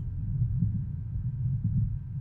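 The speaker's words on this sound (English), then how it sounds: "Dude, that heartbeat thing's gonna give me a headache." A low, muffled heartbeat in the horror hunting game Witch Hunt throbs steadily in repeating soft thumps, deep and continuous with no voices over it.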